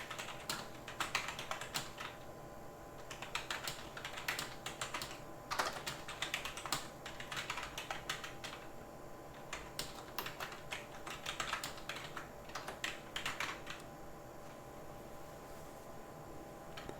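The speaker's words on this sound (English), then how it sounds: "You guys can probably hear me typing." Typing on a computer keyboard, steady clusters of quick key clicks running through most of the stretch with brief pauses, close and fairly quiet over a low background hum.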